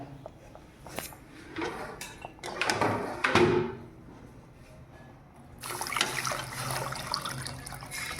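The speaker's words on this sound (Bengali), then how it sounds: "সুজিগুলো সুজি দিয়েছি জল দিয়ে দিচ্ছি" Water is poured into semolina for a sweet, a close splashing pour with some clatter, a pause, then a steadier rushing stream running to the end, with no speech.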